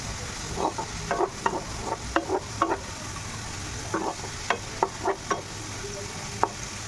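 Potatoes frying in a kadai in small batches, a bright steady sizzle with intermittent scraping and clinking from a spatula turning them, no talking.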